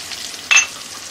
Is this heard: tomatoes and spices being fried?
yes